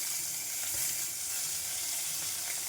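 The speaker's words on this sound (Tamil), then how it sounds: "வெங்காயம் வதக்கணுங்க." Onions and green chilies fry in a hot pan with a loud, dense, unbroken sizzle heard up close and alone.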